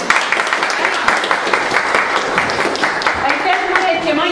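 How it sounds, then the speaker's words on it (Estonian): Audience applause at a cultural storytelling event, a brief burst of steady clapping with some voices mixed in. "Aplaus Ehale!"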